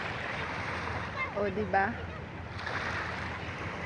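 Sea waves wash onto the shore in a steady, rushing wash of surf and wind, with a voice speaking briefly over it.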